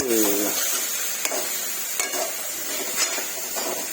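Mixed vegetables being stirred and cooked in a pan, a constant sizzle with a few sharp spoon knocks against the pan at regular intervals, close up.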